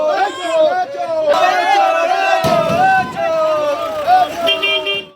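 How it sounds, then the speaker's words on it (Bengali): An outdoor crowd outside a court shouts a rhythmic 'thief, thief' chant at arrested men, loud massed voices with car horns tooting amid the hubbub. "আদালতে নিয়ে যাওয়ার সময় ধৃতদের উদ্দেশ্যে উপস্থিত একাংশ মানুষের মুখে চোর চোর স্লোগান শোনা যায়।"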